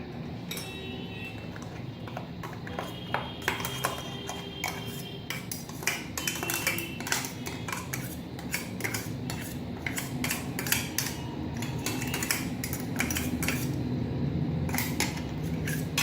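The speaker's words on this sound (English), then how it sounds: "I'll transfer it to the serving bowl" Chutney being transferred from a pan into a serving bowl with a metal utensil: repeated clinks and scrapes of the utensil against cookware, irregular and fairly close, over a steady low background hum.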